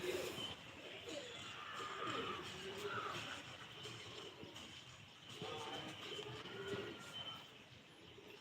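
Pigeons coo softly in a faint, low murmur that rises and falls over a quiet outdoor background, with a few distant chirps mixed in.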